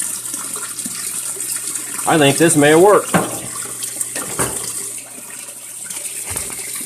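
Water rushing inside a running Frigidaire Gallery washing machine during a leak repair, a steady hiss and gush in the background while someone speaks briefly partway through.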